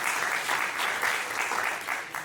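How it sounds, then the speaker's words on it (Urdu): Audience applause at a mushaira poetry recital in Chandigarh, a steady, dense burst of clapping from a crowd filling the hall, with no talk over it. "تو اس کے لیے بھی تالی بجائیے"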